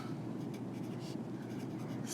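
A pen or marker scratches steadily across a writing surface during a lecture, a continuous close-up rasp with no pauses.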